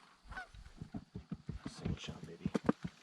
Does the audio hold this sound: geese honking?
yes